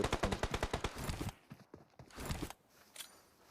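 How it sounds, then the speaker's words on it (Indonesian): A Thompson submachine gun rattles in a rapid burst of about a dozen shots in a battle royale esports match, followed by a few shorter scattered bursts, sharp and fairly close. "Nembak dari kejauhan dengan menggunakan Thompson"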